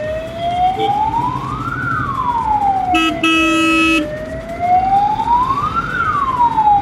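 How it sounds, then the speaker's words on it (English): An ambulance siren in traffic wails in slow rising and falling sweeps, loud and close, over a dense bed of engine and road noise. A brief harsh horn blast cuts in partway through. "Even in the times of emergency, people just keep going this way. They don't give space for the ambulance."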